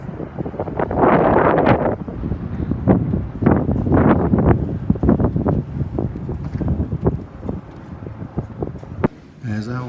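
Breezy harbour wind at a Sydney viewpoint buffets the microphone in rough, loud gusts while people talk over it.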